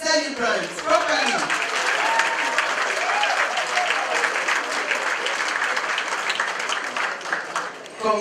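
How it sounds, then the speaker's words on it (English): Guests at a 50th birthday celebration applaud the celebrants, loud sustained clapping from a sizeable crowd with voices mixed in throughout. "Ladies and gentlemen, can you please applaud the celebrants properly?"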